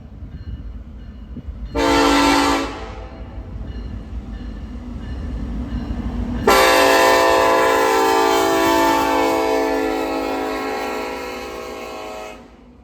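A Norfolk Southern freight train led by a BNSF locomotive sounds its air horn close and loud: a short blast first, then a long sustained chord that slowly fades, over the rumble of the moving train.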